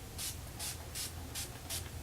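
Five short, quiet spritzes from a makeup setting spray bottle about six inches from a face, evenly spaced, each a soft hiss of mist.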